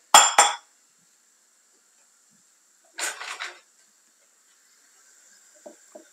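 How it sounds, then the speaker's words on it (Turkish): Chopped tomatoes tip into a cooking pot in short clattering bursts, two quick clinks at the start, another cluster about three seconds later and faint taps near the end, with quiet gaps between. "Ben bu doğradığım domateslerimi tencereme alıyorum şimdi."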